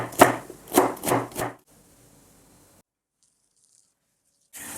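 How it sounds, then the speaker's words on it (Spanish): Knife chops celery into small cubes on a cutting board, four quick sharp strikes close by, followed by near silence and a faint final knock. "Y cortamos también en cuadraditos pequeños el apio."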